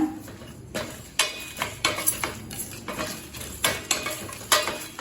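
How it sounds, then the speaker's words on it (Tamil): Black pepper and cumin dry-roasting in a pan for masala sundal powder, stirred with a utensil that scrapes and clinks against the metal in repeated bursts over a faint crackle, close and fairly loud. "இது எல்லாத்தையும் நல்ல வாசனை வர வரைக்கும் வறுத்துக்கலாங்க"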